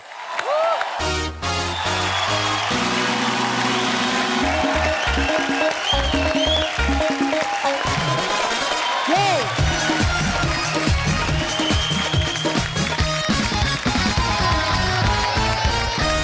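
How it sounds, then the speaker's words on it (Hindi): A studio audience at a Hindi-language entertainment show welcoming a South Indian film actor to the stage, with steady loud clapping and cheering over loud, continuous music. "चलिए उनको बुलाते हैं आप सबकी जोरदार तालियों के बीच।"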